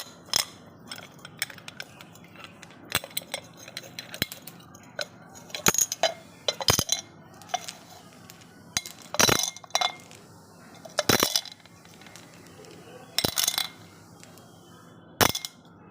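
Small stones dropped one by one into a glass jar around a lucky bamboo stalk, giving sharp scattered clinks and clatters separated by quiet gaps, close and fairly loud against a faint background.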